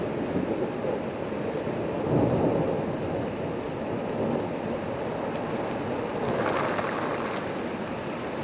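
Heavy rain pours steadily through a severe thunderstorm after tornado sirens, with low rolling thunder swelling around two seconds and again near six and a half, a continuous dense roar with no voices.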